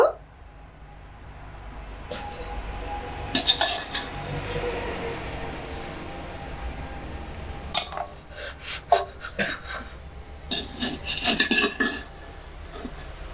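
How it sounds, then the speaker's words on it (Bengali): Baked pitha cakes are lifted one by one from a hot pan with a metal sickle, giving irregular metallic scrapes, clinks and taps, close and moderately loud over a low background hum. "সমস্ত পিঠেগুলো কাস্তের সাহায্যে একে একে তুলে নেব"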